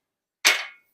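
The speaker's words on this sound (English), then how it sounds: "I love nice cork pops" A cork pops from a bottle of Old Grand-Dad 114 bourbon, a single sharp, crisp pop that is close and fairly loud, with a short breathy tail and silence around it.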